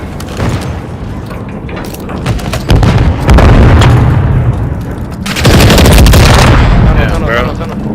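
A grenade blast and rapid gunfire in a first-person shooter, with heavy loud booms and sustained bursts of shots rolling through the clip, while players talk over the noise.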